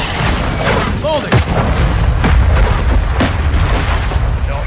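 Artillery explosions from a called-in fire mission in Call of Duty Modern Warfare 3 boom heavily with deep rumbling bursts beneath loud gunfire and shouted player talk, a chaotic, continuous battle din.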